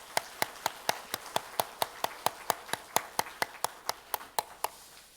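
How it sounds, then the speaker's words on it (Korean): A church congregation claps in steady unison, about twenty sharp, evenly spaced claps in a brisk rhythm, moderately loud with no talking. "하나님께 한번 감사의 박수 한번 올려드리겠습니까?"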